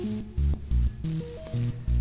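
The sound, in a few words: advanced bitcrusher audio effect in VCV Rack, with added noise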